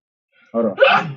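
One close, sharp human sneeze bursts out suddenly after a moment of quiet, with a brief spoken phrase around it.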